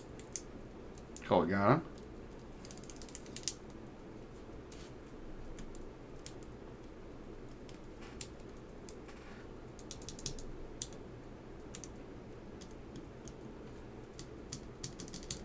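Key presses on a Geon Works F1-40 keyboard being checked in a key tester, a scattered run of faint clicks and taps over steady room hum, with a brief burst of speech near the start.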